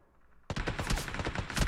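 Rapid gunfire erupts in the battle game BGMI after a brief quiet lead-in, a dense burst of overlapping shots that stays loud and continuous to the end.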